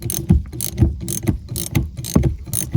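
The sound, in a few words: wrench loosening a nut on Nissan Juke rear shock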